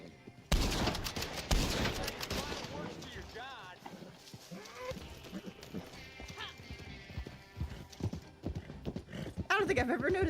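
Horse hooves clip-clop and a horse whinnies in the Western video game Red Dead Online, mixed with gunfire bursts and loud game effects, with a person talking over parts of it.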